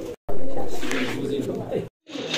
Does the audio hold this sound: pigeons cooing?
yes